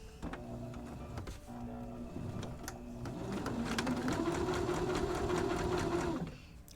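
A sewing machine runs a zigzag stitch across the loose warp ends of a handwoven hand towel. Its motor whirs in short bursts, then hums steadily and rises in pitch through a longer continuous run before stopping. The sound is close and there is no talk.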